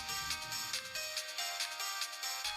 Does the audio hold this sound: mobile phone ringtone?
yes